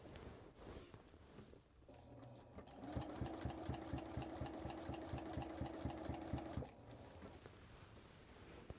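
A sewing machine stitches a straight line across a quilt just beside a strip of marking tape, starting up after soft handling noise and running at a steady, even pace for several seconds before stopping.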